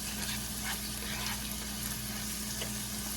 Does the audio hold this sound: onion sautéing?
yes